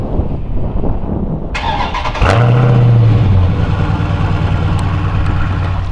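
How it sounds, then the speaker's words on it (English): A straight-piped widebody Dodge Scat Pack engine fires up and revs hard with a deep, raspy roar, then settles into a loud, rumbling idle close by. "Car about to be super loud."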